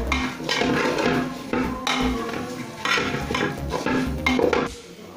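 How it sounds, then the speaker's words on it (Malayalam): Spice powders and turmeric roasting in a pan, stirred with a utensil that scrapes and knocks against the metal in repeated close strokes, a rhythmic clatter with brief pauses between bursts. "ഇനി ഇതിലിട്ടൊന്ന് മൂപ്പിച്ചെടുക്കണം ഇത്"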